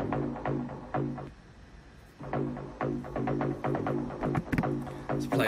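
An acid synth patch in Ableton Live plays a sampled rhythm, a resonant squelchy bassline of short repeating notes in choppy phrases with a brief gap midway, fairly quiet and alone.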